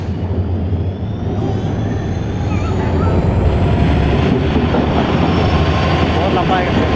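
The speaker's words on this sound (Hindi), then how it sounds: "तो चलेगा, ट्रेन भी आ रहा है।" A long passenger train pulls into a station on the Hojai to Guwahati line in Assam, a loud, steady rumble and rolling clatter of wheels that builds slightly and holds throughout, close by.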